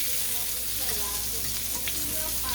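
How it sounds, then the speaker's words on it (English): Mushrooms, about a cup, sizzle steadily in a pan for a Salisbury steak supper, a continuous close frying hiss with soft spatters and no talking. "So I'm just going to cook my mushrooms a little bit there"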